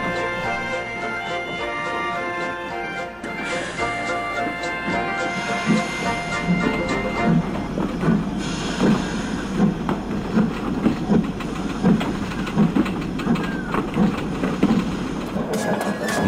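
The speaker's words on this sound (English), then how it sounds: "Thomas shunted the stone trucks away into the sidings, then bustled over to the station to collect a train of goods" An animated steam engine shunts stone trucks into sidings, with rhythmic chuffing and clanking building over a mechanical background after an opening musical passage.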